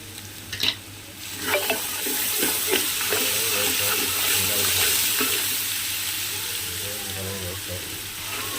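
Onions roasting in oil with ginger garlic paste stirred in for a homemade biryani, a steady broadband sizzle with scraping stir clatters near the start and a faint voice in the background.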